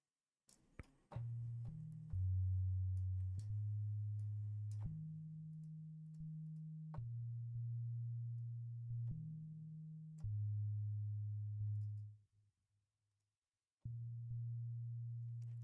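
A plain synth tone steps through a slow sequence of sustained notes with a subtle reverb or distortion effect, clean and alone, with a brief silent gap near the end before the tone resumes.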